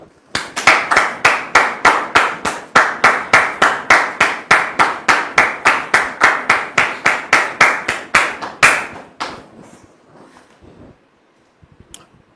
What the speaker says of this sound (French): nous allons donc recevoir Dame Lydie sous vos applaudissements, s'il vous plaît.